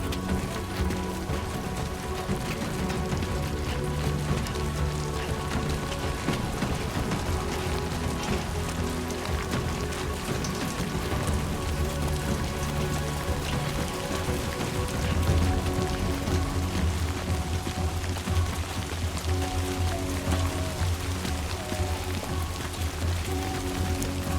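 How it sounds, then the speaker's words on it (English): Steady rain falls in the video game Death Stranding 2, a continuous even hiss of drops on surfaces that runs unbroken for the whole stretch, with low music-like tones underneath and no voices. "Great. Rain. Better move."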